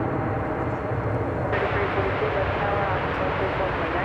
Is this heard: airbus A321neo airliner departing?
yes